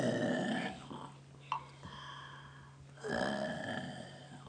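Children imitate the loud snoring of a wolf, giving two drawn-out, rasping vocal snores separated by a short pause, close and fairly loud.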